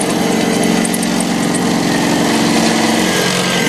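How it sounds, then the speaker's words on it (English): A dull bevel cutter grinding bevels in a workshop gives a continuous loud, harsh mechanical whine and rasp, steady and close without pause. "it's a little noisy at the moment because my cutter is pretty dull at this point"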